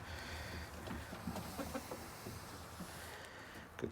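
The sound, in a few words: chickens clucking in a coop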